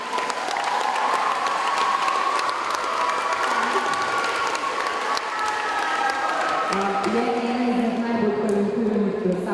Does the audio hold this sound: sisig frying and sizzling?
no